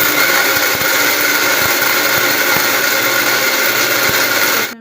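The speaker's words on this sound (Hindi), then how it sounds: "मैंने फिर इसे मिक्सर में डाल लिया है। और इसके अब पीसेंगे हम मसाले" A mixer grinder loudly grinds a mix of whole garam masala spices, including cinnamon, green and black cardamom, bay leaf, black pepper and cloves, in a steady, continuous whir that runs without a break and cuts off abruptly at the very end.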